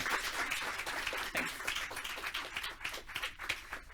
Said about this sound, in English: it's the time to clap now